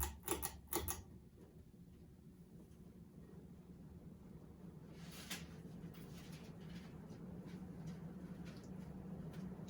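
A 52-inch antique brass Craftmade CXL ceiling fan runs on high speed, a faint, steady airy whoosh. A few sharp rustling clicks come from loose packing material near the start.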